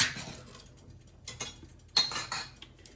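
Fire roasted diced tomatoes go from a metal can into a pot of Cajun 15-bean soup, heard as a few scraping, clinking metallic scoops and taps against the can and pot, close and moderately loud with quiet gaps between.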